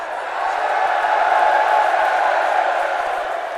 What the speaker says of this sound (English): The crowd roared louder.